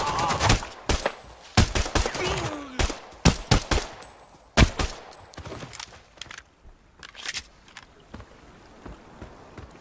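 Single semi-automatic gunshots in the Arena Breakout mobile shooter game ring out as sharp, separate cracks in uneven bursts. They are loud at first, then thin out into scattered fainter shots.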